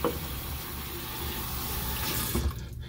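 Water runs steadily from a tap while a loofah alternative is rinsed under it, a continuous close splashing hiss with small shifts as the item moves through the stream.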